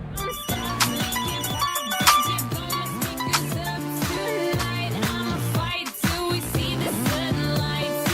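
A mobile phone ringtone plays loud and close in a Telugu action movie scene, a continuous melodic tune that repeats without pause.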